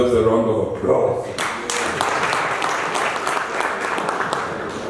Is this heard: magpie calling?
no